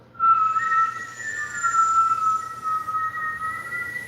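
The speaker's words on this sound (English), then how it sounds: "Inhale with the whistle." During Kundalini yoga breathing, a long whistled inhale through pursed lips holds a steady, clear tone that wavers slightly, close and fairly loud, running almost unbroken for about four seconds.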